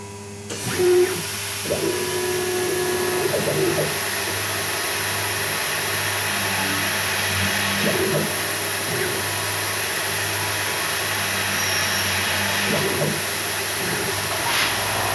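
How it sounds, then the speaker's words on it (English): A high-speed CNC spindle running relatively slow mills tough steel blade stock, giving a steady machine whine and hum. Brief harsher cutting bursts recur every few seconds. "because this is such a high-speed spindle and because we're milling such a tough steel, I've got the spindle running relatively slow"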